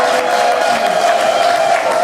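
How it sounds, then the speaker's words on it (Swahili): A church congregation at a Sunday worship service bursts into sustained applause mixed with high, shrill ululation, forming a loud, dense crowd roar that stays steady throughout. "Mpe Mungu makofi ya shangwe na vigelegele."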